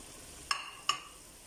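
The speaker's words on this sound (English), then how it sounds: "Just going to give this a stir." Two sharp metallic clinks of a utensil against a pan while stirring pre-cooked chops in gravy, over a faint background hiss, close and with no talking.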